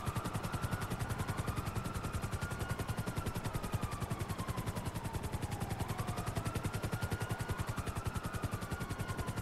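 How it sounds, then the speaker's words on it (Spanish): Police helicopters in GTA V hover close by, a fast, steady rotor chop pulsing evenly throughout, with a faint siren-like tone gliding up and down in the background. "Ahí tenemos dos helicópteros."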